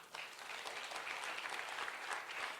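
Applause fills a church hall during a sermon by Pdt. Ridwan Hutabarat, a steady wash of many hands clapping at moderate loudness, continuous and without talk.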